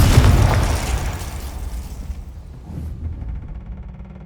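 A Confringo explosion spell blast in a Harry Potter video game, a loud burst that booms and decays over a few seconds, with no talk.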